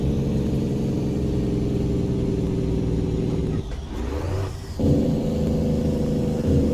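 A car with a 350 horsepower engine drives in rain, its steady engine hum and road noise continuing throughout with a brief dip and surge in revs midway.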